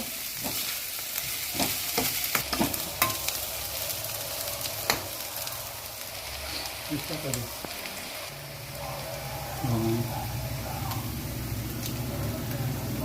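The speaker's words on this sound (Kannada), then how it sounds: "ನೀಟಾಗಿ ಚೆನ್ನಾಗಿ ಫ್ರೈ ಮಾಡ್ಕೊಳ್ಳಿ. ಕೆಂಪಿಗೆ ಈರುಳ್ಳಿ ಎಲ್ಲ ಕೆಂಪಿಗೆ ಆಗಬೇಕು." Onions frying in a pan while being stirred for egg bhurji, giving a steady sizzle with scattered scrapes and clinks. A voice speaks briefly underneath.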